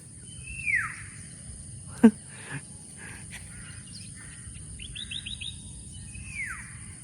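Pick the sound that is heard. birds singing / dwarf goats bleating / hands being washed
birds singing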